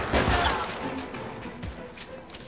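Gunfire from the detective video game LA Noire: a burst of shots near the start, followed by scattered lighter pops and crackles against a busy background.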